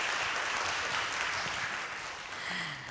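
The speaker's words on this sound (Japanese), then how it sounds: "もう一度大きな拍手をお願いいたします。" Audience applause at a concert honoring a lyricist, full and dense clapping that holds steady for the whole stretch with little variation.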